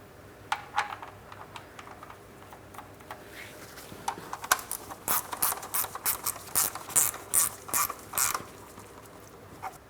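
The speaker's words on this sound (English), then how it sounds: "Let's go ahead and install our drain plug." Ratchet wrench clicking in quick, uneven bursts while tightening the oil drain plug under a 2008-2016 Chrysler Town & Country 3.8L V6, close and clear with no talk.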